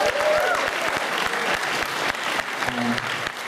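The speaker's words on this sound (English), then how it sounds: "So give everyone here a big cheer" Audience at the Toronto After Dark Film Festival applauding and cheering for a world premiere, dense steady clapping with crowd noise filling the whole stretch, fairly loud and close, with brief vocal whoops partway through.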